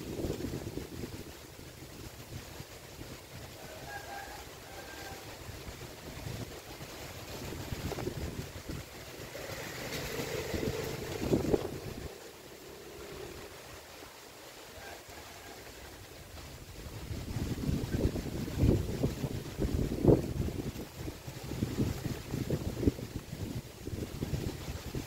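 Cool wind blows outdoors at a garden by a mango tree, a steady broad rushing with buffeting on the microphone that swells louder in the second half, with no voices over it.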